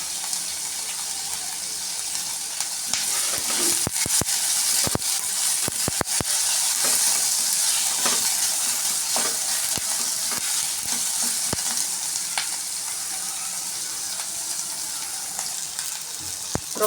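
Onions sautéing in a pan for a roasted gram and onion chutney, a steady loud sizzle with frequent sharp scrapes and clicks of stirring throughout, no talking.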